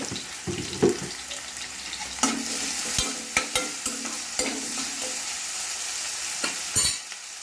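Onions sautéing in a pan for kothu parotta masala, a soft steady sizzle with repeated scrapes and clacks of a spatula stirring, close by and alone.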